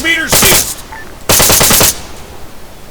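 Two bursts of rapid machine gun fire from the ArmA 3 military shooter, the first about half a second long and the second a longer sustained volley, loud and close with quiet gaps between them.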